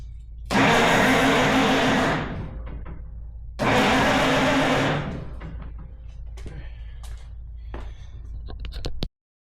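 A vehicle up on jacks put into gear so its rear wheel spins, heard as two loud whirring surges of a few seconds each, each fading into a lower running hum with scattered clunks before cutting off abruptly.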